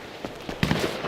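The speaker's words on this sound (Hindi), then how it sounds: "गोलियां चलने की आवाज़ आ रही है।" Gunfire in GTA 5 during a zombie survival mode, a few sharp distant cracks followed by a quick cluster of louder bursts, with no talk over them.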